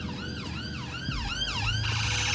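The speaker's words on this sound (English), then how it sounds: "It's another ambulance." An ambulance siren wails in repeated rising and falling sweeps as it passes, heard fairly loud from inside a high-mileage Mercedes-AMG A45 on the road, with low engine rumble beneath.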